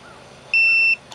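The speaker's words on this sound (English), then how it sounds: "press and hold down that reset button until it beeps" A single loud, steady electronic beep from an RV control panel, held for about half a second after quiet background, then a faint short chirp at the end.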